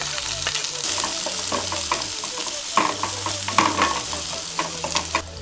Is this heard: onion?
yes